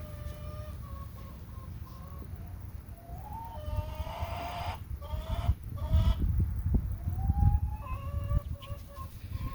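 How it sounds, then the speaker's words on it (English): Backyard chickens cluck and squawk in a busy, overlapping chorus at close range, with rising calls and a few sharp cries over low rustling and handling noise. "The chickens are having very strong opinions today."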